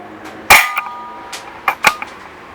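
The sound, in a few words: CO2 BB revolver shots, Dan Wesson, single action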